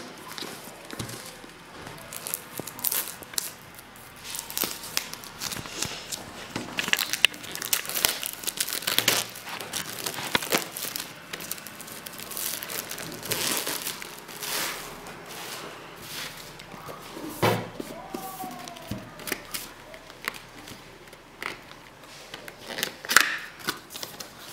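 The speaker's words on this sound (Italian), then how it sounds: "Apriamo la confezione." Plastic wrap and cardboard of a Gears of War 3 Limited Edition box crinkling, tearing and shuffling as the package is opened, close and continuous with frequent sharp rustles and crackles.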